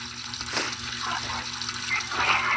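Tap water gushes in a steady, fairly close stream with a slightly fluctuating splash that grows a little louder near the end.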